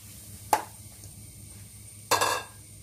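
Washed jackfruit seeds tipped into a non-stick pan, heard as two short clattering bursts about a second and a half apart, the second longer and rattlier, close in an otherwise quiet kitchen.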